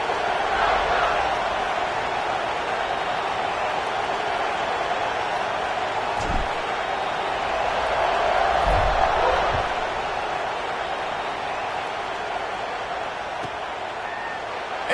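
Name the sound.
football stadium crowd before kickoff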